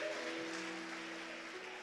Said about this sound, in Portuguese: Se for para Jesus, você pode aplaudir mais forte.